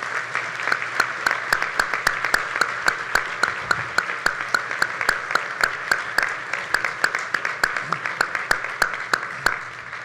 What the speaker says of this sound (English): is worthy of a tremendous round of applause